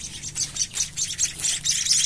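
An emprit kaji songbird, a small caged bird being hand-fed, gives quick bursts of high thin chirps close up, several rapid calls coming one after another in an uneven rhythm with no talking.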